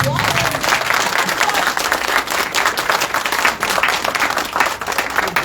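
Audience applause fills the whole stretch, a dense, steady wash of many hands clapping at fairly close range with no break.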